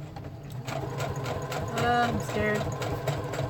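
Sewing machine stitching a leather cover for a trunk with a standard needle, a steady mechanical whir with rapid rhythmic clatter running throughout, close and fairly loud, while a person speaks briefly over it.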